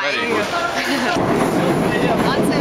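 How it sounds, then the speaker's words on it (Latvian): A London Underground metro train roars loudly and continuously from close by, with a rushing rumble and a shift in tone about a second in, and voices faintly audible beneath it. "Londonā metro. Ļoti skaļi."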